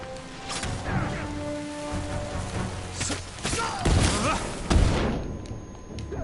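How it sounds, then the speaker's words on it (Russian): Fireworks bombs going off during a battle in the video game Ghost of Tsushima, a dense run of crashes, pops and heavy thumps over a steady background roar, with a couple of louder blasts toward the end. "Опять пиздец, фейерверки."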